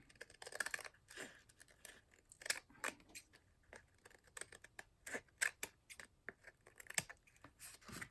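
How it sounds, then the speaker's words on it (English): Scissors trim the paper pages of a handmade cooking journal in a string of short, crisp snips and rustles, close and fairly quiet, with uneven gaps between cuts and no talking. "trimming all these at once is probably not going to happen"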